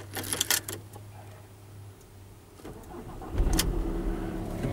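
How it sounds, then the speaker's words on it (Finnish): A Volkswagen Caravelle van engine cranks and catches after a few quiet clicks and rustles, then settles into a steady, close idle that continues to the end. "Ja sitten koneet tulille ja kivastihan se siitä niin sanotusti hörähti käyntiin"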